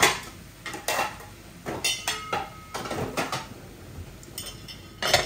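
In a home kitchen, a metal lid is set half over a pot of cooked greens and curry after the gas is switched off, giving a series of sharp, close clanks and scrapes with quiet gaps between them.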